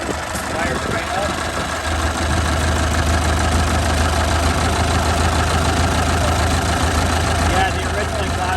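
An old, rust-free car with its original exhaust idles steadily just after starting, a close, even engine chug running under people talking.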